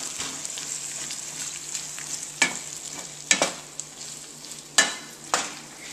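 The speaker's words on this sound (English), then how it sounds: "we're going to add our asparagus in here. We're going to stir this in nicely." Asparagus sizzling in a pan, a constant close hiss of frying punctuated by several sharp scrapes and knocks as it is stirred, with no voices.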